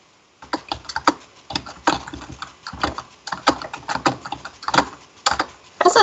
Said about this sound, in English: Violently typing on a keyboard.